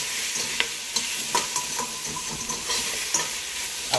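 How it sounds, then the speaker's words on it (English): Allspice, Old Bay, garlic, thyme and onion sweating in a pot for Jamaican fish head soup, a continuous sizzle broken by scraping stirs and light clinks of a spoon against the pot. "So we're adding back allspice, old bay, garlic, thyme, onion, garlic, back to the pot, okay? We're all sweat it off."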